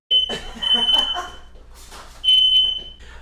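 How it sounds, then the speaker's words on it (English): A home smoke alarm goes off in the kitchen while custard tarts bake, sounding shrill electronic beeps in short bursts, with a person talking between and over the tones. "My smoke alarm can't take it"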